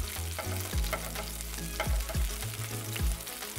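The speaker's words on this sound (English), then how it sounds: "So I'm just going to let that saute." Onions sauté in a pan with a steady sizzle, while periodic low thuds and scrapes of stirring recur every second or so, close up with no voices.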